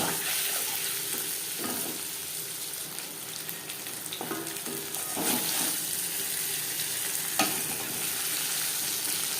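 Steady, close sizzling of paneer frying in hot oil, with occasional stirring scrapes punctuating the continuous crackle.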